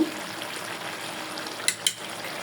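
Beef and cabbage curry simmers in a pan with a soft, steady sizzle, and two quick scrapes or clinks from the stirring spoon land near the end. No one talks.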